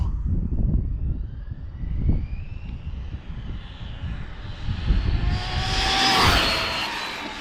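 A 4S-powered HPI Mavrick RC car with a Spektrum 6S ESC and a 2900kv Poseidon motor makes a loud speed pass, its high motor whine rising in pitch as it closes in and peaks near the end over steady outdoor rumble.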